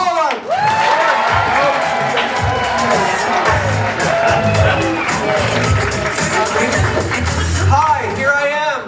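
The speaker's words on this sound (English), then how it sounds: "A very big round of applause for Andy Pollack." A stand-up comedy festival audience applauds and cheers loudly and continuously, dense clapping with whoops and crowd noise throughout, close and full.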